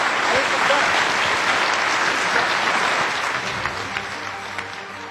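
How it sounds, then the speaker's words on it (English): Sustained audience applause for two congressmen, Rep. Jay Inslee and Rep. Dave Reichert, at a Seattle Rotary meeting: dense, steady clapping from a full room that holds strong and slowly tapers toward the end. "I would like the crowd to give these two gentlemen a huge round of applause"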